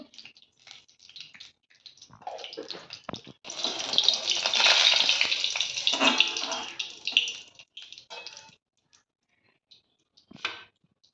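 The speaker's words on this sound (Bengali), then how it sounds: "দেবো সাদা জিরে ফোড়ন," White cumin seeds dropped into hot oil for tempering sizzle loudly, a broad hissing burst that swells for about four seconds and then settles into a softer, crackling fry before fading out.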